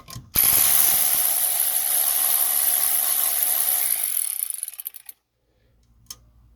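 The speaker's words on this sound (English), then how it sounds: "right now what I'm doing is taking off these bolts. It's in 11 mil." A ratchet spins off 11 mm bolts from a 1979 Ford F-100 steering column, a rapid continuous clicking buzz lasting about five seconds, loud and close, before stopping with a faint click afterward.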